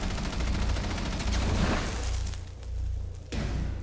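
Gunfire in the Rainbow Six Siege video game crackles in quick bursts of sharp shots, with a few deeper booms and short pauses between volleys, fairly faint overall.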